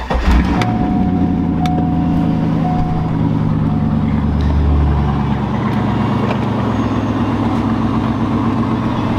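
A Corvette race car engine fires up after sitting unused for a week, catching with a quick burst and then settling into a loud, steady, lumpy idle close by, without talking.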